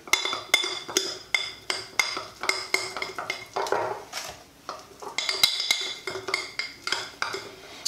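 Sourdough bagel bread ingredients get mixed in a bowl with a utensil, making a steady rhythm of clinking and scraping knocks, roughly two strikes per second, close and fairly quiet.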